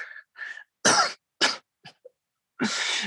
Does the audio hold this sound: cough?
yes